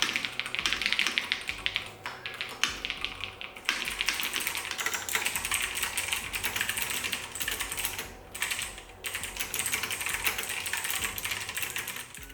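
Fingers type quickly on a gaming keyboard with Hall effect switches, a dense, continuous patter of close, crisp keystrokes broken by a few short pauses.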